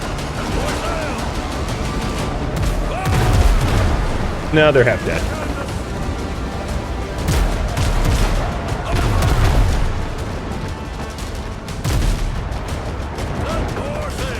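Heavy ship cannon fire booms in the pirate game Windrose, with repeated broadside blasts and crashing impacts over ocean wash, while someone talks throughout.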